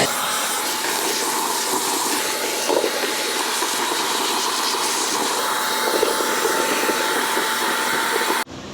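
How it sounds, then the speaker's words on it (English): A vacuum sucks fluid out of the fuel tank of a seized Kawasaki Ninja 250R, a loud continuous rushing hiss that holds steady for several seconds before cutting off abruptly at the end. "we're gonna go ahead and suck this stuff out so we don't throw it all over the floor"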